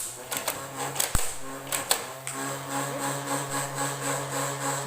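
Blaze Storm battery-powered automatic toy gun firing foam bullets, a steady mechanical motor whir with quick rattling clicks and a few sharp snaps in the first two seconds, close and fairly loud, no voices.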